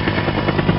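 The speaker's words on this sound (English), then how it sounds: "Police helicopter." Police helicopter with a loud, dense rotor and engine roar, heard close and steady in a very short burst with no voices.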